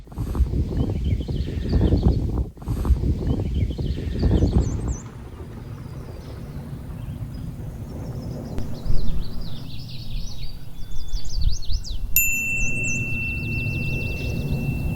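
Warbler song in Sax-Zim Bog, repeated thin high trilling phrases in the middle distance, heard over wind noise and a low rumble, with a steady high tone near the end.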